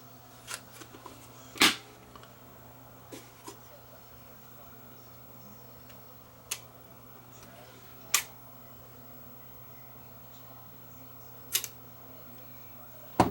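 A film camera set to bulb mode with the lens open at f4.5 fires a few sharp isolated shutter clicks spaced seconds apart over a quiet room hum.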